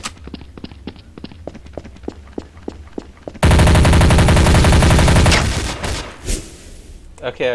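Gunfire in Counter-Strike: Source: a run of evenly spaced single shots, then a loud, dense burst of rapid automatic fire that holds for a couple of seconds before fading into scattered bangs.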